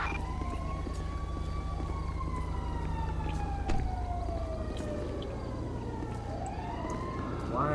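Emergency vehicle siren wailing up and down in GTA V's LSPDFR police mod while responding code 3, loud and continuous over a low engine rumble.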